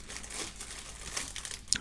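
Paper bags crinkle and rustle up close, a dry crackling that runs through the moment with a few sharper crisp snaps near the end, no talking.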